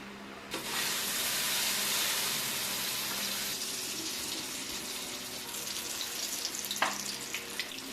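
Eggplant omelette frying in canola oil, a steady broadband sizzle and hiss close by that holds through the whole stretch with no voices, and a few faint pops near the end.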